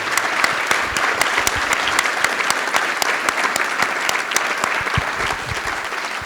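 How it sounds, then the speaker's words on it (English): Audience applause after a public conversation with a state attorney general, a steady dense clapping from a sizable crowd that holds loud and even throughout, with no talk over it. "A round of applause."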